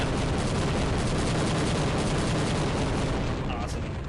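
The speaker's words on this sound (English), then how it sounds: "I love the explosion animation of the Apache." An Apache helicopter explodes in Half-Life, a loud sustained roar of blast and crackling debris that holds for several seconds before easing slightly.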